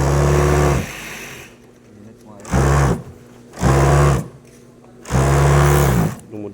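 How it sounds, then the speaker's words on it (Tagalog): A five-thread overlock sewing machine stitches a zipper onto a jacket, running in four loud, close bursts of steady mechanical whirring separated by brief pauses. "Tawag ng machine dyan, tawag nitong machine na to mga idol, 5 threads."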